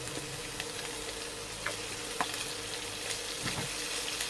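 Food sizzling and frying in a pan on the grill, a steady broadband hiss with occasional small crackles and pops, fairly close and continuous with no talk.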